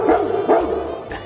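A dog barks close by, two sharp barks followed by a softer yip, loud and alone.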